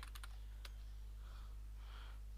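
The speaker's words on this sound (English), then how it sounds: "I'm just going to click here and type anything." A handful of quick computer keyboard keystrokes click in a short cluster at the start, faint and close, over a constant low hum.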